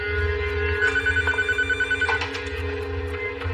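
A telephone rings close and loud with a repeated electronic trill, heard alone with no talking.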